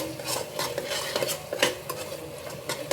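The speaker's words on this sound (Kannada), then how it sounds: "ಸ್ವಲ್ಪ ಕೊತ್ತಂಬರಿ ಸೊಪ್ಪು 2 ಹಾಕ್ಕೊಂಡು ಚೆನ್ನಾಗಿ ಫ್ರೈ ಮಾಡಿ" Coriander leaves are stir-fried in oil for tomato bath, with quick rhythmic spatula scrapes against the pan over a light sizzle, heard up close and alone.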